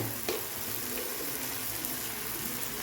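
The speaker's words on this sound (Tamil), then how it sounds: "இந்தளவுக்கு நல்லா ஃப்ரை ஆகுது" Tomato chutney with coconut and curry leaves fries in a pan, a steady close sizzle with faint stirring clicks and no talking.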